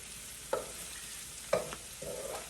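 Onions, garlic and ginger sauté in a pan, with a soft steady sizzle and a few spatula stirs scraping through at intervals, faint and close.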